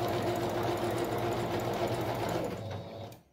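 A sewing machine runs straight stitches on an appliqué patch with a fast, steady mechanical whir, close and continuous, before slowing and stopping near the end.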